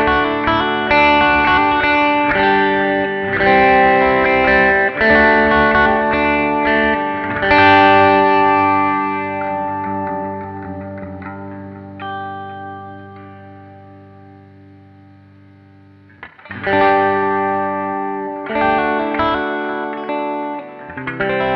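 A Jackson JS30 Dinky electric guitar plays loud, saturated distorted chords and riffs with a chorus-like shimmer, ringing out and fading around the middle before the playing kicks back in strongly. No one speaks.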